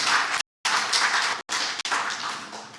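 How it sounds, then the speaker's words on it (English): A crowd applauding steadily, a dense wash of many hands clapping with a few brief gaps in the sound. "he deserves our applause, a round of applause"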